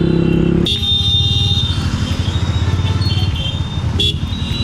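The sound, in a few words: road traffic at a colony junction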